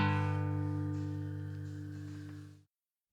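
A single sustained guitar chord rings out and slowly decays, fairly quiet and alone, then stops abruptly.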